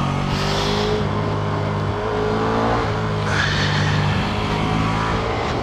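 A Ducati Streetfighter V2 motorcycle engine revs loud and close, its pitch climbing and dropping through gear changes in a continuous throaty roar, with no voices.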